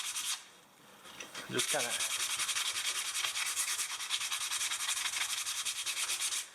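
Sandpaper rubs by hand across wood for a rustic finish in quick, steady back-and-forth strokes. A short pause comes near the start, with a few words spoken quietly.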